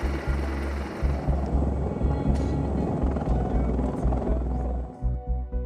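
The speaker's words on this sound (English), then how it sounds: "The Sikorsky CH-53E Super Stallion is the United States military's largest and heaviest transport helicopter." A Sikorsky CH-53E Super Stallion heavy military transport helicopter drones loud and steady with thumping low rotor pulses, close by and continuous with no voices, easing slightly near the end.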